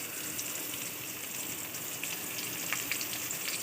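Sliced onion and curry leaves fry in oil in a pan for carrot chutney, giving a steady, dense crackling sizzle with light popping, close and unbroken.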